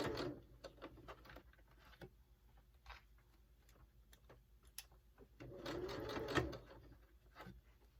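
A home sewing machine stitches through several thick layers of fabric for a DIY face mask, with close, uneven bursts of rapid needle clatter, a pause, then a louder run of stitching.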